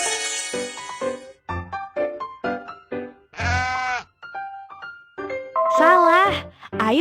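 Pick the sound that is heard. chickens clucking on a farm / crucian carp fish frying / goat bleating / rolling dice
goat bleating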